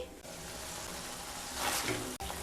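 Spice paste sizzles and fries steadily in a pan while being sautéed for a vegetarian pointed gourd dish, a continuous close hiss that swells briefly louder, then a sharp knock near the end.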